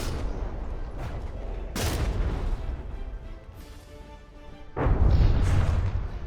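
Heavy artillery shells firing during a naval battle in the game From the Depths, with loud booming blasts at the start, a strong burst near two seconds, and a sustained heavy roar near the end.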